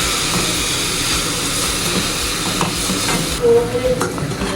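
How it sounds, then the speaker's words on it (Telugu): Grated coconut being stirred through thick sugar syrup in a pan for coconut sweets, a steady close sizzle with scraping stir strokes and a few louder clanks near the end, no voices. "పాకం అంతా కూరకి అంటుకునేలా కలుపుకోవాలి మొత్తం."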